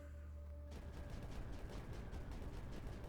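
Rapid volleys of cannon fire from the strategy video game Creeper World 4, a dense, steady barrage of repeated shots that starts abruptly and continues loud throughout, with mechanical game effects layered underneath.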